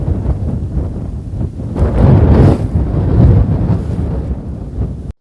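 Wind gusts across a cold, foggy moor in the Peak District in winter, buffeting the microphone with loud, rumbling low roars that swell and ease over a few seconds.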